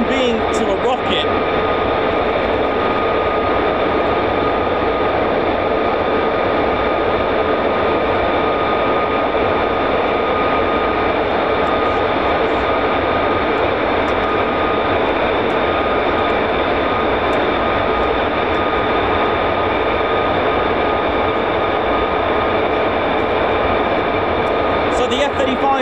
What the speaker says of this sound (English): So the F-35A, like the three main variants, they are 5th generation stealth fighters.